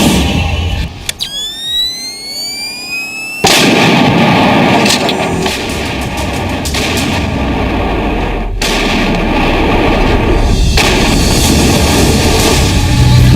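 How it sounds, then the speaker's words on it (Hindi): Bofors artillery guns fire shells across the mountains of Kargil during the 1999 war. A thin rising whistle gives way to a loud, sustained roar of booming gunfire that rumbles on without pause. "एलओसी पर कारगिल की सुनसान पहाड़ियां बोफोर्स तोप से निकले गोलों से गूंज रही थी।"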